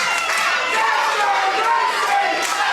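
Wrestling crowd at a live event in Witham cheering and shouting, a continuous loud roar of many voices close by with no pauses.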